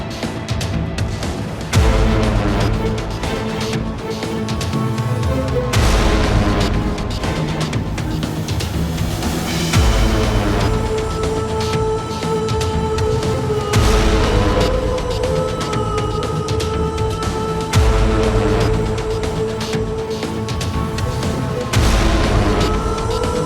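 A car's overheated old tyre bursts during a long drive, sending the car out of control into a crash. Loud, sustained booming and crunching fill the whole stretch, with repeated heavy impacts and no speech.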